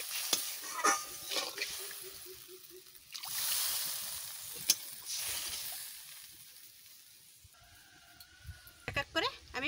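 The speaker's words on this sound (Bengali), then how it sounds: "মশলা ভালো করে ভাজা হয়ে গেছে, আমি জল দিয়ে দিচ্ছি।" Water goes into frying spice masala for a fish curry, giving a soft hiss and sizzle with scraping stirring strokes, fairly quiet and close, rising and falling in bursts.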